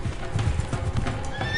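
Wild mustangs on the Great Plains gallop past with a steady, close clip-clop of hooves, and a sharp neigh rises near the end.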